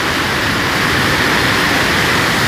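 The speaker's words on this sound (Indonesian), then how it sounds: "Telah terjadi banjir bandang di Sungai Lubulo." Flash-flood water roaring down the Lubulo river in Kebumen: a loud, dense, unbroken rushing wash, steady throughout with no voices.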